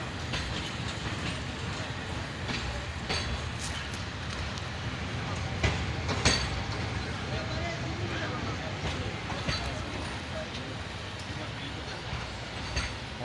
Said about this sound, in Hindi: तो इस वजह से जाफ़र एक्सप्रेस अभी रिटर्न हो रही है